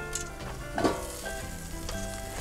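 Pork chops frying in a pan at a hot-weather campsite, a steady close sizzle with a brief louder crackle of stirring or flipping partway through.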